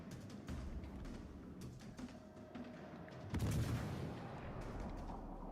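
Naval guns firing in World of Warships: Legends, faint distant booms under a low rumbling battle backdrop, with one heavier salvo near the middle.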